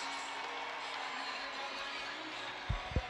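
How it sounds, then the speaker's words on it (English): A hockey arena crowd at a Jacksonville Icemen vs Fort Wayne Komets game after a fight roars in a steady, distant wash of noise, with two short low thumps near the end. "this crowd is going berserk"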